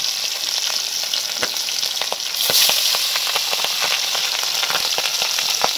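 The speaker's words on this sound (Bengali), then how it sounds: "পাবদা মাছ তেলে দেওয়ার পরে ভীষণভাবে ফাটে" Pabda fish fry in hot oil, a loud dense sizzle with rapid sputtering pops that swell partway through and continue steadily.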